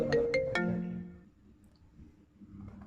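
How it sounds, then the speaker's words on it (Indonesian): Mobile phone ringtone signalling an incoming call, a few sharp melodic tones at the start that fade into quiet room noise, fairly close and alone. "Ada telepon nih."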